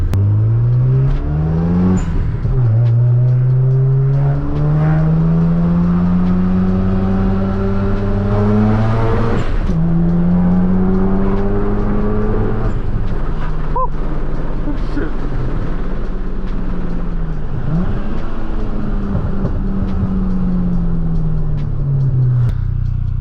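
A higher-horsepower turbocharged JDM car accelerates hard under boost, its engine note climbing through repeated gear pulls and shifts, loud and close from inside the cabin, with someone talking over it.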